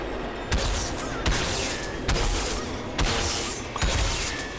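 Gunshots in Plants vs. Zombies Garden Warfare, five evenly spaced loud shots over a constant roar of game noise, with no talk.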